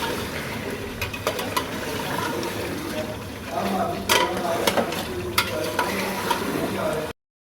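Rice roasting and being stirred in a cooking pot, giving a steady dry sizzle with scattered scraping clinks from the spoon through the whole stretch before it cuts out.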